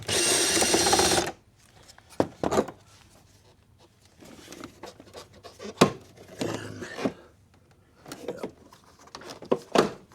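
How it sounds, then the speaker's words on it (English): A ratchet removes the 10 mm bolts on the engine cover of a 2019 Nissan Armada, making short bursts of clicking with quiet gaps between them after a brief loud noise at the start. "First thing is we're going to take this cover off. We got two 10mm bolts."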